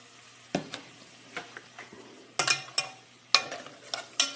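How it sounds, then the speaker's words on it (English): Tomatoes soaked in jalapeno juice and mushrooms being stirred in a frying pan, with a low sizzle underneath and bursts of scraping and clattering utensil strokes that grow louder and busier toward the end. "And I'm going to just stir it up."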